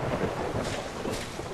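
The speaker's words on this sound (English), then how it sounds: "It is a weak thunderstorm." A weak thunderstorm in the video game Solarpunk, a steady wash of rain with low rolling thunder underneath, continuous and even throughout with no talking.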